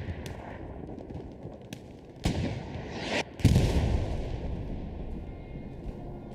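Artillery shells land during a competitive Hell Let Loose esports match, with sharp broadband blasts near 2.3 and 3.4 seconds over a steady rumble of distant gunfire and battlefield noise, the second impact loudest and followed by a rolling tail.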